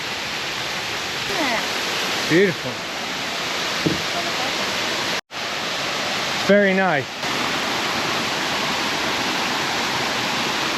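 Jungle waterfall reached after a sweaty, mosquito-filled hike: a steady, broad rush of falling water fills the whole scene, with brief birdlike calls and a few short spoken remarks over it.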